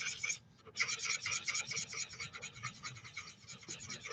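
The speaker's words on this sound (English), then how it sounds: "Just circular motions helps blend it in" An ink blending tool scrubs across card stock in small circular motions, a close, soft, continuous rasping with rhythmic pulses, quiet and alone.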